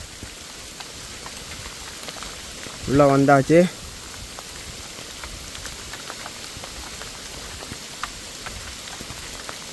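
Rain falling outdoors at a bunker-filled former training camp in Mullaitivu, a faint steady patter throughout, with a brief spoken phrase partway through.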